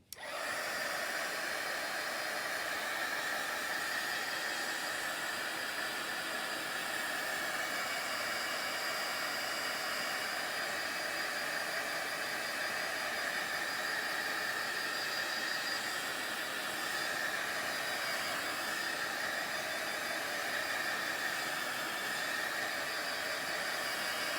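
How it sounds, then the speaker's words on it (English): A heat gun blows hot air in a steady, unbroken roar of airflow hiss, close and loud for the whole stretch, with no talking over it. "let me hit that with the heat gun"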